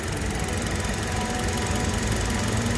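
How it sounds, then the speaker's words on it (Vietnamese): A 2011 Hyundai Accent, imported manual-transmission version, idles with a steady, loud, even engine drone that stays constant throughout, with no speech over it. "Máy nổ rất êm."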